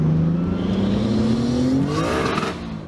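A Nissan R33 Skyline GTS-T accelerates hard from inside the car, its engine note rising steadily in pitch over a few seconds before easing off at the end, loud and close with no talking.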